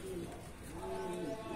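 Pigeons kept for sale, a breeding pair of male and female, coo softly in a low repeated warble at close range, faint and steady with a little background noise.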